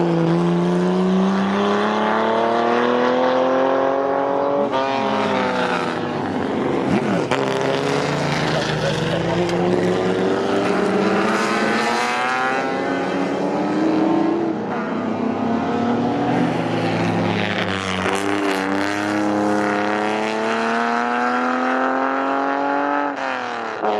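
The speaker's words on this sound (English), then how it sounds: "Group of cars coming through." Historic race cars including a Jaguar D-type come through in a group at Snetterton, engines roaring loudly with rising and falling pitch as each passes, overlapping in waves for the whole stretch.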